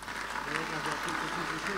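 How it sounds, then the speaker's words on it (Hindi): An audience at a Bageshwar Dham Sarkar gathering claps in thanks, a continuous patter of applause lasting throughout, moderately loud with some murmuring voices mixed underneath. "ताली बजाकर धन्यवाद देंगे."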